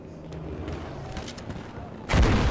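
Video game gunfire in Battlefield V Mercury Conquest multiplayer, with faint scattered shots in the background followed by one loud, sharp blast near the end.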